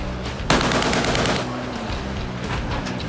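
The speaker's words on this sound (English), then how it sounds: "Warning shots. Fire." A warship's deck gun fires warning shots, a sharp blast followed by a rapid burst of loud, close gunfire that rings out and then fades into a quieter rumble, with no voices.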